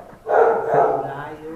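A dog barks once, loud and close, in a single drawn-out bark amid voices nearby.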